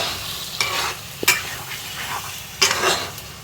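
Paneer being stirred in a pan with butter and brown sugar: a steady soft sizzle with a few scraping strokes of a spoon across the pan, close by, with no talking.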